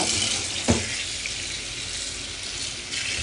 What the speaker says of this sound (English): So first I'll start from washing the okra.